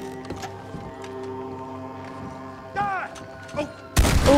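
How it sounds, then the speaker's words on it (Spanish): A few sharp pump-action shotgun blasts with booming tails near the end, in Red Dead Redemption 2 on Xbox One, over steady game music and background noise. "En esta ocasión voy a ocupar la escopeta que nunca lo ocupo. La escopeta de corredera clásica."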